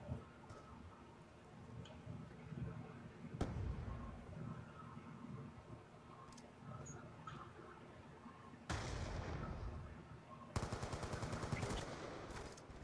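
Gunfire in the shooter game Black Ops 2: bursts of rapid shots and a few single sharp reports, loud at times, with ticking game noises in the background and no talk.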